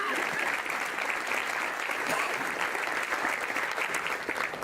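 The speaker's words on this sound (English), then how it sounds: "I'd like for you to give them a round of applause." Audience applause at a breakfast event, a dense and steady patter of many hands clapping at moderate volume throughout, with no speech on top.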